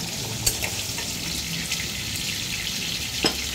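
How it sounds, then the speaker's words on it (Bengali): Mutton frying in a pan over raised heat, a steady sizzling hiss with a few soft clicks and scrapes of stirring. "এবার ভেজে নিই"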